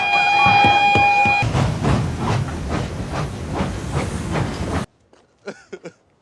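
A steam train vents a loud, sustained hiss for several seconds, with rhythmic chuffing and a whistle-like tone at the start, then cuts to near silence with a few faint voices.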